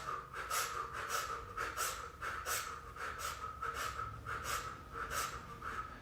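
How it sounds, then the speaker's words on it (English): A person pants rhythmically through an O-shaped mouth like a dog during a meditation breathing exercise, about a dozen quick, even breaths per few seconds, close and clear with no talking. "we're going to keep the same breath, so O-shaped mouth with the dog panting"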